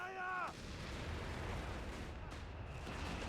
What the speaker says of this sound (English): A mortar as well from Latouff